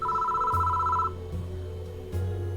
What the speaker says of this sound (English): Suddenly a phone rings inside the security station.